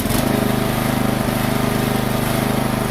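A rebuilt small engine runs smoothly after a teardown, holding a loud, even, pulsing drone close by with no stumbling or change in pace.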